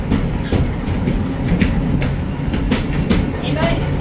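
Interurban electric trolley #64 rolls forward at a railway museum, a steady rumble with rhythmic clicks of wheels over rail joints, heard close and continuous.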